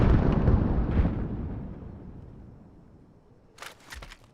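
A frag grenade detonates in Call of Duty: Warzone, a loud close boom with a second thump that decays over a few seconds into a rumbling tail, followed by a couple of quick sharp clicks near the end.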